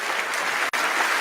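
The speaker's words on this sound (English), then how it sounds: "it totally is it's still a pre-recorded applause" Pre-recorded applause plays during a training event, a dense, uniform burst of clapping at steady loudness with a brief cut partway through.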